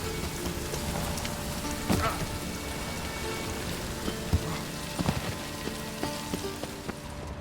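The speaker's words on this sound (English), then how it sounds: "I like rain. Keeps the roads indoors." Steady rain falls in The Witcher 3: Wild Hunt, a continuous hiss of drops on surfaces with occasional louder nearby drips and faint background game sounds throughout.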